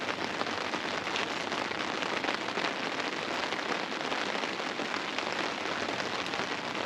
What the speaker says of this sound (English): enjoy the rain